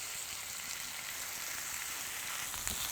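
Fish stew with carrots and capsicum is stir-fried in a pan and gives a steady, close sizzle with a soft hiss that holds evenly throughout, plus a light clatter near the end and no talking.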